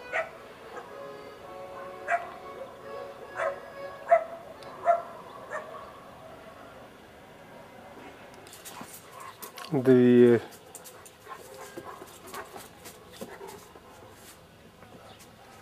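Grown dogs in a house garden barking, yipping and whimpering, with a louder burst of yelps partway through, while someone talks nearby.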